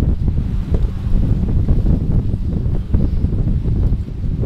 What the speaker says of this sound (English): Okay, now we're sailing.